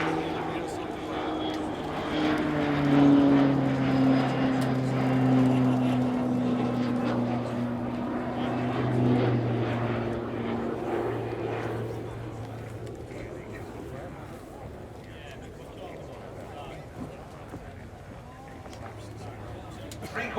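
A Pilatus PC-9M Hudournik turboprop of the Slovenian Armed Forces flies a display at RIAT, rolling with its gear extended; its steady propeller drone holds loud and fairly close before fading slightly as it heads away, under a commentator's talk.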